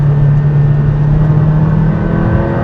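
Aston Martin Valhalla supercar engine held near the red line at full throttle, around 125 mph on a short straight; a loud, steady, close engine roar holds throughout without a break.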